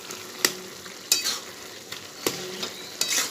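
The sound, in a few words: stirring ash gourd and shrimp cooking in a pan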